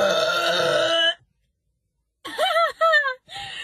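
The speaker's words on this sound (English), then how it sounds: "I've never burped like that before." A young woman gives a long, drawn-out belch, then falls silent before following with a few short, wavering vocal sounds close to the microphone.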